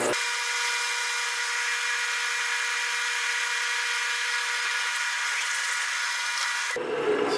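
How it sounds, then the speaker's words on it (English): A spring pass honing a bushing for a Toyota 4WD IFS idler arm upgrade gives a loud, steady high-pitched grinding whine that runs unbroken for several seconds before cutting off abruptly near the end. "We take a second spring pass over the bushing just to get it to the final"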